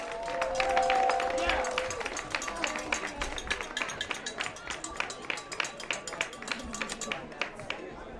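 Crowd cheering and clapping at a Greenville Christian School homecoming football game, a swell of voices giving way to rapid rhythmic applause, lively and dense.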